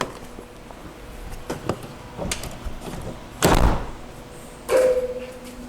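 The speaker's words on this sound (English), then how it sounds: "Can we put this door down?" A heavy garage door rolls down with a rumbling slide, then a second clattering thud as it settles, amid faint knocks and taps.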